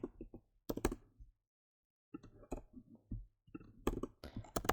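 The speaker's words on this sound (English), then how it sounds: "So I'll just go and type in data and then save" Quick bursts of typing on a computer keyboard, clusters of close, crisp key clicks separated by short pauses, with no talking.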